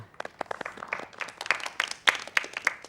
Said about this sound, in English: Let us give a clap to our meditation